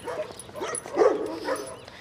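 Dogs out on a walk give short whimpers, yips and soft barks close by, a few quick vocal bursts over a couple of seconds.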